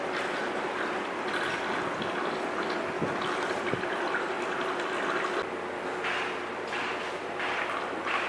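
Water pours from a one-litre jug into the reservoir of an espresso machine, a steady splashing, gurgling fill close by that runs the whole time, with no voices.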